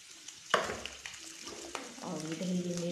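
Paneer frying and being stirred in a pan, with a sharp clatter as the spoon strikes and then a steady sizzle that builds toward the end, several scraping knocks spread through.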